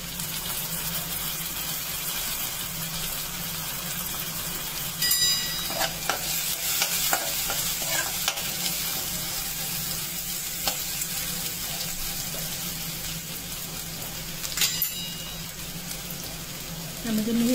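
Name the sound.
onion frying until soft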